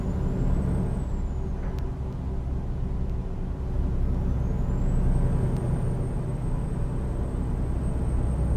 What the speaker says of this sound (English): Boy, the Jake brake on this engine does not sound the greatest.